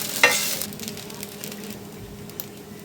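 Egg stir-fried with rice in a hot pan for egg fried rice: close, steady sizzling with scraping stirs and a sharp clatter near the start.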